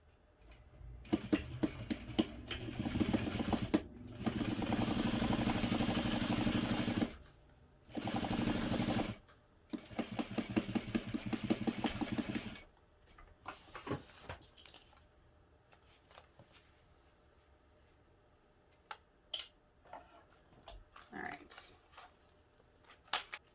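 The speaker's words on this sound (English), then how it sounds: "we're just going to sew together along the bottom of the two pocket panels using a 1/4 inch seam" A home sewing machine stitches two bag pocket panels together along the bottom with a quarter-inch seam, running in several bursts of steady whirring with pauses between, then giving way to light handling clicks and rustles.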